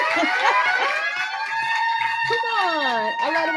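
A loud alarm sound effect rings out on a comedy show, with wavering, siren-like tones that rise and fall steadily for several seconds, alone and without speech.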